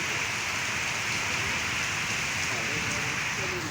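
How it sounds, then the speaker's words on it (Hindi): Rain falls on a street in steady, dense, hissing patter, loud and continuous throughout. "यहाँ पे बारिश आ रही है।"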